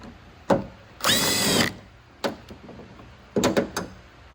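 A power tool whirs in a single burst of about half a second while removing a bolt from the exterior door handle of a BMW E60 5-Series, with sharp clicks and knocks before and after, close up and without talk.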